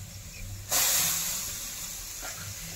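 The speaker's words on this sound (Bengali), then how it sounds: "জল তো ফুটছে" Chicken kulcha set over boiling water, a sudden loud burst of steam hissing that starts abruptly and slowly fades while staying close and strong.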